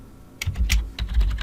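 Quick, close keystrokes clatter on a computer keyboard, several sharp taps in an irregular burst over a second and a half, with no talking.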